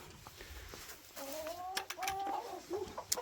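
Three hens in a coop cluck and call in short, close bursts, rising in a quick run of tonal squawks over a quiet, rustling background.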